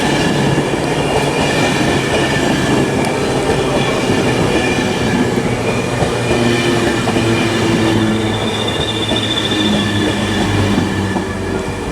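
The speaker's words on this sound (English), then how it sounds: "Also arriving is a 1518 LNER service from Leeds to London King's Cross, which is formed of another 225 set." An InterCity 225 set on an LNER Leeds to London King's Cross service arrives at Grantham station on the East Coast Main Line, a loud steady rumble of wheels and traction with rail clatter throughout, no voices.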